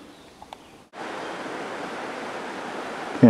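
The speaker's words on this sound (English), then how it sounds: "We're pretty high above a branch of the New Haven River." A branch of the New Haven River flows well below a mountain hiking trail, heard as a steady, broad rushing wash that starts abruptly and holds at an even level, with no talking over it.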